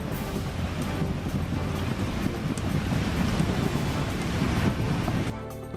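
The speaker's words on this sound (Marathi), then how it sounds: "मुंबईतील समुद्राला उधाण" Rough, high sea waves surge along the Mumbai coast in Maharashtra, a dense continuous roar of surf mixed with heavy wind buffeting the microphone, loud and close throughout.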